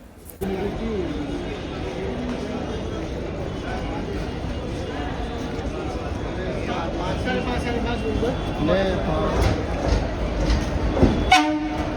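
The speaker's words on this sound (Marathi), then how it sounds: "ट्रेन आता लागते प्लॅटफॉर्मला" The Virar–Gholvad express train rolls into a platform with a continuous rumble and rail noise, a horn sounding near the end, with some voices in the background.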